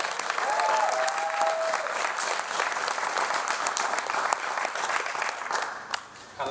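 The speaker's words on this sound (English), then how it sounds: "put your hands together and make some crazy noise for Jared Rooks." A church audience gives steady, moderately loud applause for a speaker, with dense clapping for several seconds and a brief whistle near the start before it tapers off.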